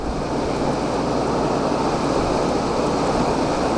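An air conditioner's compressor runs on the low cool setting, giving a steady, loud broadband whoosh with a faint low hum beneath it that holds even and unbroken throughout, with no voices.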